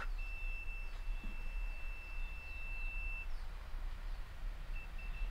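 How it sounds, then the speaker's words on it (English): A steady high electronic tone from a purple wire sounds continuously for about three seconds during a vehicle installation, then briefly returns near the end, over a low background hum. "the purple one in here is beeping"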